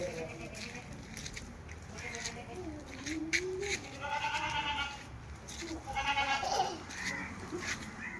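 Several Sirohi goats bleat in short wavering cries, some near and some farther off, over a steady background murmur.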